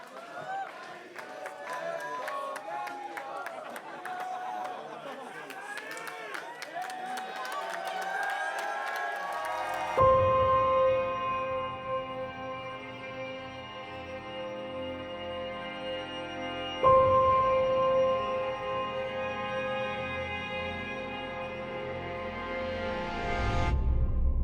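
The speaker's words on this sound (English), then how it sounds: "You just got an extended round of applause by one of the best crowds in disc golf." Sustained applause and cheering from a disc golf tournament crowd after a player's final birdie, a dense steady roar of clapping and whoops that swells again midway, with music-like tones entering under it.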